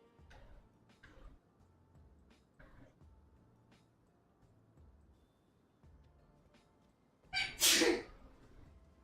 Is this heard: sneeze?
yes